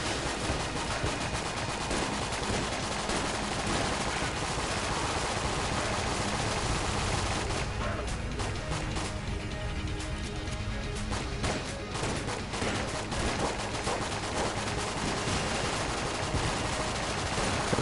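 A Patriot gun in a video game fires in a dense, sustained rapid burst of gunfire, loud and continuous, with a short lull partway through before the barrage resumes.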